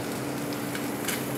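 Garlic sizzling in a hot pan, a steady close crackling fry that holds evenly throughout with no talk over it.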